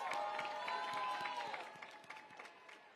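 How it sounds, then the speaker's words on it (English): Applause from a crowd at a New York City Hispanic Heritage reception honoring the mayor's mother, a steady wash of clapping that gradually fades, with faint voices mixed in. "Let's give her a round of applause."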